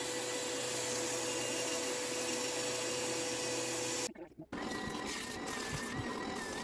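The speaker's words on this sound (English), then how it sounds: "I cut this out on the bandsaw." A bandsaw cuts a brick blank along a traced template outline, giving a steady loud machine whir that drops out briefly, then resumes with a fainter whine and a few knocks.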